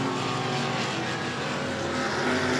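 E-Mod race cars at New Smyrna Speedway, a steady loud roar of several engines at speed, droning continuously and without pauses.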